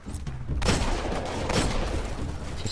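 Weapon fire in the video game Destiny lands as a heavy burst followed by a sustained rumble of shots and impacts, loud and close, with no talk.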